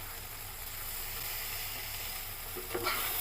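Village-style bean mash bharta frying in a pan over raised heat as the water cooks off, a soft, even sizzle throughout with a faint stir near the end, no voices.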